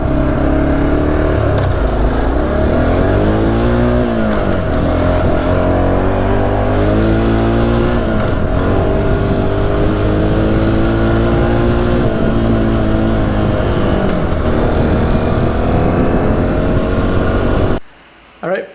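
A 4x4 ATV engine drones loudly and continuously while riding through long grass, rising and falling in pitch as the throttle changes, close and unbroken until it cuts out abruptly at the end.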